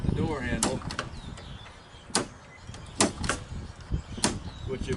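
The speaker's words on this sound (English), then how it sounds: "pressing the button down" The door of a 1997 Freightliner FLD truck is worked by its handle, giving a series of sharp metallic latch clicks and clunks. The clicks are close and repeated, over muffled background noise with someone speaking.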